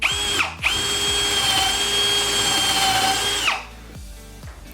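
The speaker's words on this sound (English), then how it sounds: "To use this drill in drill mode, just turn the clutch until you get to the drill icon." An AEG A18PDB0 cordless drill runs in drill mode at its low speed setting, a steady whirring motor tone held for about three seconds before winding down, with a brief stop and restart near the start.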